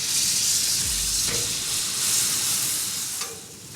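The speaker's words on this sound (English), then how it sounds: "Now I'm also going to go ahead and drop some butter down here" Butter sizzles and hisses steadily on a hot Blackstone flat-top griddle beside toasting bread, a close, continuous frying crackle with faint scraping touches.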